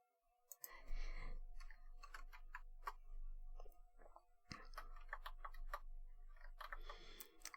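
A computer keyboard set to a Swedish layout is typed on in irregular bursts of crisp clicks, close and fairly quiet over a low hum, with a brief pause midway.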